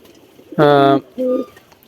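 Domestic pigeons on a rooftop give two close, loud cooing calls, a longer one followed by a shorter one after a brief pause, over quiet background.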